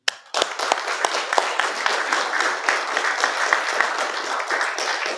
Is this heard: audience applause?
yes